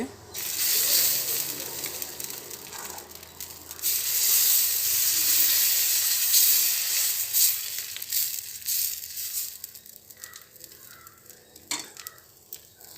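Whole-wheat adai batter poured onto a hot dosa griddle gives off a loud, steady sizzle that slowly fades and thins, broken by a few faint scraping clicks.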